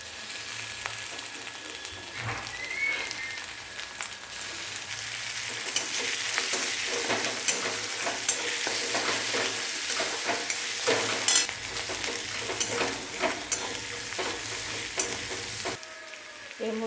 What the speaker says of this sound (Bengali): এর উপর দিয়ে দেবো আদা